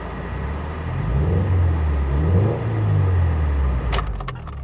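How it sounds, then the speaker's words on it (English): A Duramax Chevy with hail damage and a damaged bumper, its engine running with a steady low rumble that swells and eases, followed by a few short jangling clicks toward the end. "Not a bad looking or sounding car."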